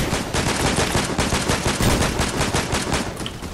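Rapid bursts of gunfire from the video game Fortnite, loud and dense, with fast repeated shots stacking into near-continuous automatic fire for the whole stretch and no talk over it.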